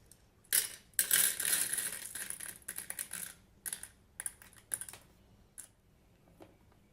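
Plastic bingo number pieces are snapped apart by hand, giving bursts of crisp clicks and crackles in uneven clusters, close and fairly quiet, with pauses between breaks and no talking.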